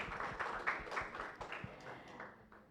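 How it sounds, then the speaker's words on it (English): Applause for a speaker at an international wildlife biodiversity conservation symposium: a steady wash of many hands clapping from a crowd, fairly even throughout and tapering off slightly at the end. "please give applause for Mas Haryawan Agung Wahyudi"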